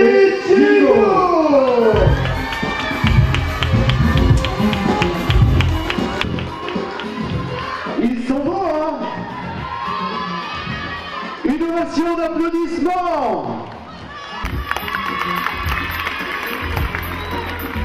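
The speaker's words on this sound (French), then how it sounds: "Million d'applaudissements pour Esteban et Diego." A crowd cheers, whoops and applauds for Esteban and Diego at a Car Podium show in Caudry. The noise is loud and busy, with shouting voices and strong tonal sounds over it throughout.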